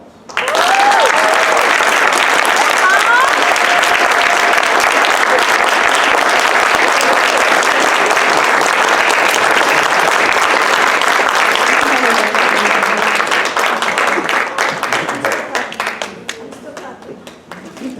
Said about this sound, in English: she deserves a big round of applause